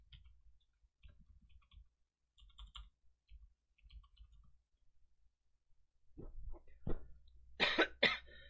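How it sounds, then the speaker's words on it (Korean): Faint soft clicking and tapping at first during a live stock-market broadcast, then a few sharp, close coughs burst out near the end. "기침 소리 좀 섞여 들어갔을 것 같아요"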